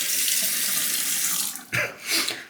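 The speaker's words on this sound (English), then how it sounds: "I'm gonna prepare a cup of water over here for the Dilucot process." A tap runs steadily into a cup, filling it with water during whetstone honing preparation; the flow is loud and continuous, then sputters and stops with a couple of short final splashes.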